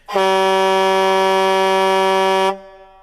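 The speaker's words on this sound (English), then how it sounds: "That's me like laying on the air horn." A single loud, sustained air horn blast blares for about two and a half seconds, then cuts off abruptly.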